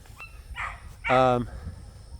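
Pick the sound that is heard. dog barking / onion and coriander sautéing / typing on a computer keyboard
dog barking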